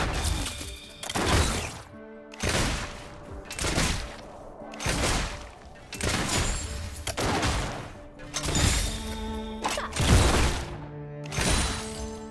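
Repeated bursts of gunfire in the mobile game Wild Rift, about eight sharp volleys in a steady rhythm with shattering impacts between them.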